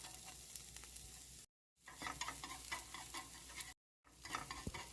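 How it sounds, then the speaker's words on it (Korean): Green onions sizzle and crackle in hot olive oil as they're stirred around the pan for a Korean rolled omelette, a close, steady frying hiss with short cuts of silence. "파를 볶다가"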